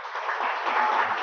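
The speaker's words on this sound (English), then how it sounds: "give you a round of applause" A round of applause from a lecture audience, steady dense clapping held at an even level throughout a short burst, with no talking over it.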